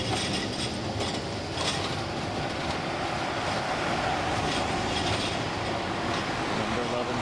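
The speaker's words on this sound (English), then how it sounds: "Number 11 tram." Number 11 tram passing near a hotel in Basel, Switzerland, a steady rolling rumble with rail clatter and light wheel squeal that stays fairly loud throughout.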